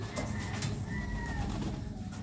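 Breeding pigeons in a loft coo in low, soft murmurs that repeat steadily against a busy background of rustling and bird noise.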